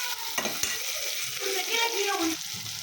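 Onion, garlic, dried red chilies and a large tomato sizzle in a pan as the base of a mutton and egg gravy. The frying hiss is steady and close, broken by a couple of sharp spatula knocks and scraping stirs.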